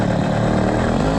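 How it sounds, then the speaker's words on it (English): A 100cc motorized bicycle engine revs with the choke on, giving a loud, continuous rough buzzing drone close by throughout, with no clear breaks. "It's already revving better."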